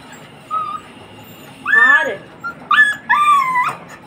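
A six-month-old miniature pinscher puppy lets out short high yips and drawn-out whimpering whines in a few close bursts, with quiet pauses between them.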